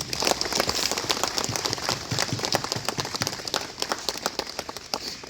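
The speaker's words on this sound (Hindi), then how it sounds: "ताली बजाएंगे।" An audience claps at a jubilee year opening ceremony in a church parish, a dense burst of hand claps that thins into scattered claps, close and lively with no voices over it.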